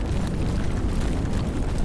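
Explosions and fire erupting in the Love and Deepspace video game produce a dense, continuous roar of rumbling blasts and crackling flame. It is loud and unbroken, with no distinct separate bangs, and no one speaks.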